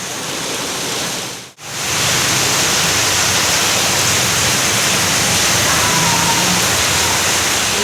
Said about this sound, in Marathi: आणि असला जोरात पाऊस पडतोय ना